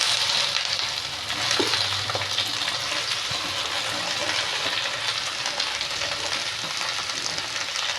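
Okra pieces and green chillies fry in a pan with a steady, loud crackling sizzle that runs the whole time, with no talking.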